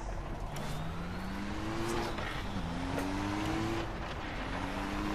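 A car driven in Far Cry 3 hums along steadily, engine tone rising and falling as it accelerates, with brief tire and impact noises over a constant rolling drone.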